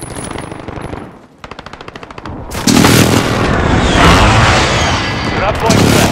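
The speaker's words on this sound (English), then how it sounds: "Enemy precision airstrike." An enemy precision airstrike in a video game starts with rapid, crackling gunfire, then gives way to loud, sustained rumbling explosions that fill the rest of the stretch.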